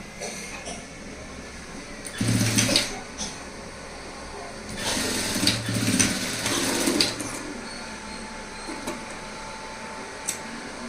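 A domestic sewing machine stitches a knot detail on a blouse in two bursts, a short whirring run followed by a longer one, fairly close, with quiet pauses between and a faint background hum.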